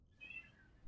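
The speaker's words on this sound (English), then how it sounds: "Sorry about my cat, by the way." A pet cat meows indoors, one short mewing call near the start over a quiet room, fairly faint and close.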